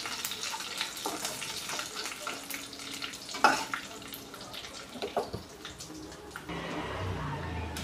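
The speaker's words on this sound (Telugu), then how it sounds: "మిరపకాయలు వేగిపోతున్నాయి" Chana dal, urad dal, mustard seeds and red chillies fry in hot oil, a steady crackling sizzle with occasional stirring clinks and pops, close and continuous throughout.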